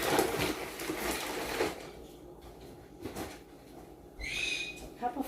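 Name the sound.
pet birds chirping in the background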